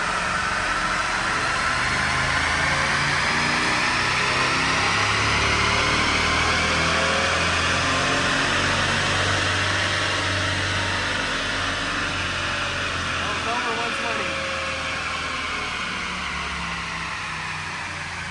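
A RAM 1500 with a 5.7 HEMI V8 at full throttle in sixth gear, a sustained loud engine roar with rising and falling pitch and broadband rushing noise, continuous for about eighteen seconds with no talk.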